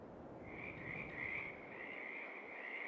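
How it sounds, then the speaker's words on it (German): Frogs croaking by a river near a forest in Farming Simulator 22, a steady dense chorus of rapid trilling croaks over low ambient rumble, continuous and fairly quiet, with no talk. "Frösche."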